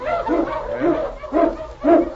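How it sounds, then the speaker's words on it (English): Husky sled dogs in a 1943 Yukon radio drama bark and yelp in a rhythmic series of three or four close, loud calls, with a thin background hiss of old broadcast audio. "Get the dogs up. On, King! On, you husky!"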